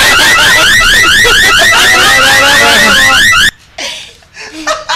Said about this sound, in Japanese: 警報出ました。